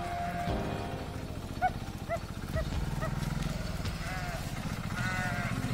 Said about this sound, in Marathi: किती मेंढ्या आहेत